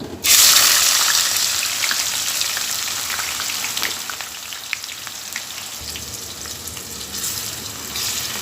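Two medium chopped onions dropped into hot oil with whole cumin, a loud sudden hiss that settles into a steady dense sizzle, with faint stirring taps and no voices.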